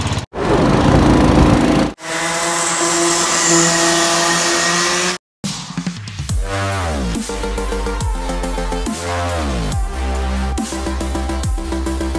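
A car engine while driving, loud and close, revving with pitch climbing and dropping through repeated gear changes, with brief cut-outs in between.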